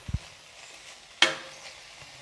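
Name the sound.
vegetables with salt stirred and cooking in a pan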